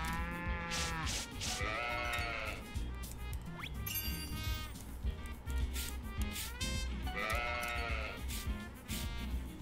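Sheep bleat repeatedly in the farming game Story of Seasons, wavering calls rising over a steady bed of game background music, loud and close, with no talking.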